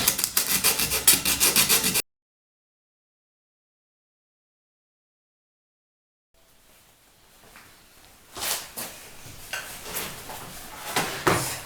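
Coarse 40-grit sandpaper roughing down wooden bed parts milled into puzzle shapes: a loud scratchy rubbing burst, a stretch of silence, then quieter rasping strokes with a few knocks, no voices.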